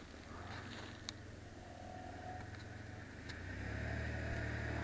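A car pulls away from a campsite at SparrowFoot, its low engine rumble steady and then swelling louder toward the end, with no talk.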